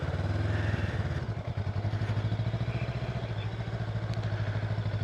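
A 2025 Honda Rebel 500 motorcycle chugs at low speed in a parking lot, its engine pulsing in a steady, even low throb with light mechanical clatter, close and continuous.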